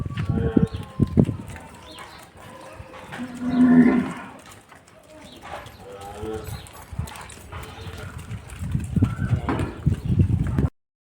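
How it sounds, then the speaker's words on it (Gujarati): Cows at a village farm moo several times, one long low moo standing out near the middle, amid hoof clops, bird calls, rustling and brief voices. "ગાયું આવી ગઈ છે"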